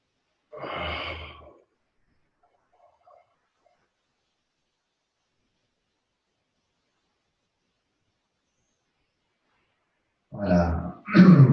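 Two breaths taken during Jo preparation exercises, one early and one near the end, heard close and separated by a long stretch of silence.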